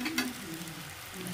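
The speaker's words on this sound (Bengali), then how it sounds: "বেগুনটা ভাজতে দিলাম" Sliced eggplant frying in hot oil in a pan, a soft steady sizzle with a few light crackles, close and quiet throughout the brief moment.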